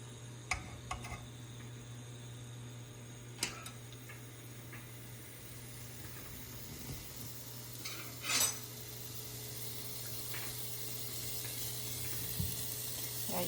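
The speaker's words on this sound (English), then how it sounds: "we're just going to put the pork belly into sear on all four sides" Fatty pork belly sears in a single layer in a pan, a continuous soft sizzle with a steady low hum beneath and a few light utensil clicks and taps.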